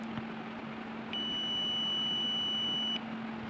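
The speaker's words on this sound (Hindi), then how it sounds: "आपको एक हल्का सा बीप का साउंड सुनाई देगा" A multimeter on continuity test gives a single steady electronic beep lasting about two seconds, clear but fairly faint against a quiet hum, with no talking.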